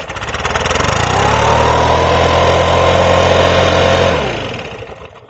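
A Stihl BR700 backpack blower engine, set to the middle choke position, fires up loud and close. Its two-stroke roar holds steady for several seconds, then drops away.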